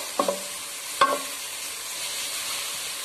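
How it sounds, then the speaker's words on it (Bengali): Pieces of bottle gourd frying in ghee, with a soft continuous sizzle behind two distinct clinks of a spoon or spatula against the pan near the start, and nobody speaking. "2-3 মিনিট এভাবে একটু ঘিয়ের মধ্যে ভেজে নেব"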